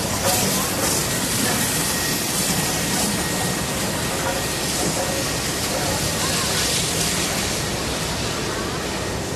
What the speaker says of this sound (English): Beautiful old steam train just pulled in. Being pushed by a diesel train.